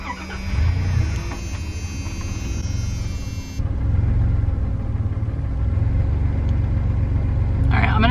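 Camper van engine idling and running with a steady low rumble close by, the sound shifting partway through as it carries on, with faint voice-like noise layered over it.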